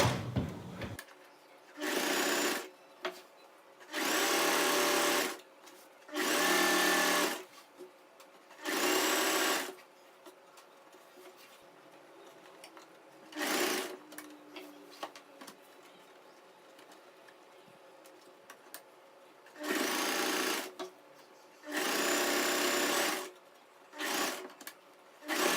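A sewing machine stitches a saree fall in loud bursts, about eight runs of steady whirring separated by quiet pauses, close to the listener with no talking.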